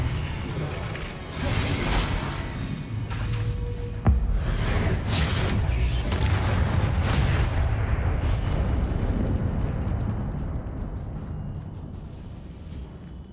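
Spell blasts and explosions in a Hogwarts wizard video game: a dense run of booming blasts, crashes and sharp cracks, loud and close, that fades into a rumbling tail, with no voices.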